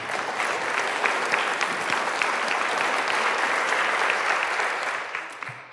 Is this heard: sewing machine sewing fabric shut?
no